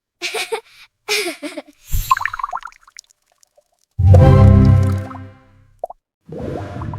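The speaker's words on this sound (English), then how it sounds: "The rock goes into the water pool first." Small rock dropping into a pool of water, giving a single short plop surrounded by separate bursts of other sounds, including a longer resonant tone and a few brief clicks.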